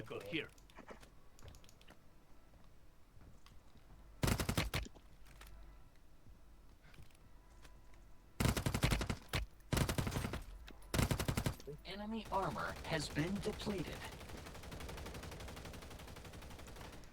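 Gunfire in the mobile shooter Warzone Mobile, several loud bursts of rapid automatic shots spread across the clip, with quieter clicks and game noise between them and a voice talking near the end.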